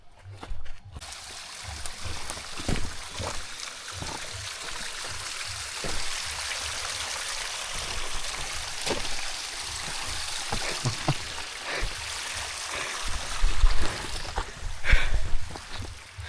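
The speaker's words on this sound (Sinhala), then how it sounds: "වතුර සද්ද ඇහෙනවනේ." A mountain stream on Kothalagala Mountain flows and trickles steadily, close and fairly loud, with scattered splashes and a few brief footstep-like knocks, and no voice over it.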